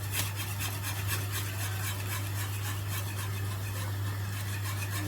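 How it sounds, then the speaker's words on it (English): A spoon stirs macaroni cheese sauce in a pan on high heat right after milk goes in, making a continuous rhythmic scraping and rubbing over a low steady hum, close and fairly quiet, with no talking. "I'm just going to keep stirring"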